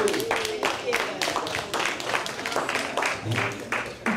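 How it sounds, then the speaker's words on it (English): An audience at a Peekskill NAACP membership drive in 2018 claps in uneven bursts, individual hand claps standing out near and fairly loud, with a voice talking over the clapping. "round of applause again"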